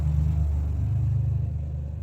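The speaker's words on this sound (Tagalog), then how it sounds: "Daghan pa man nangaging mga motor anak." Motorcycles rumble past steadily on a road, the engine drone continuous and fairly close, swelling slightly mid-clip with no one talking.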